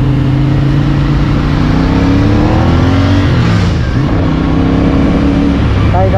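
Car engine revving in heavy city traffic, loud close harmonic drone rising and falling in pitch across several revs, with road rumble beneath and background voices.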